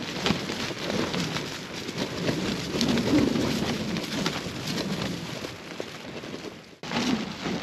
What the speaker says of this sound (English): Well, it's still raining, it's still windy as hell.